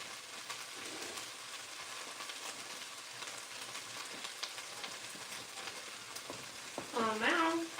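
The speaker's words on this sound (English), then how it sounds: "Oh, those are really sizzling." Beef pieces sizzling in a pan for carbonnade give a continuous crackling fry, with a faint voice briefly and a louder clatter or squeak near the end.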